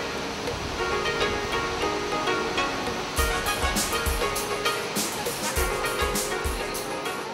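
Steady broadband roar of Nachi Falls in Wakayama, Japan, a 133-metre waterfall, rushing continuously with no break and fairly close.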